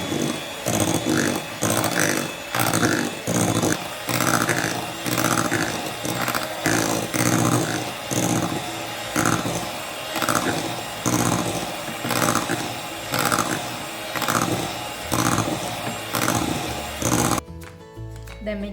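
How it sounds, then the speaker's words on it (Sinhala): Electric hand mixer whirring through mango cheesecake mixture with gelatin, a loud continuous motor drone pulsing in regular bursts, running steadily before cutting off near the end. "මම දැන් ආපහු සැරයක් මේක ඔක්කොම ටික හොඳට මික්ස් කරගන්නවා"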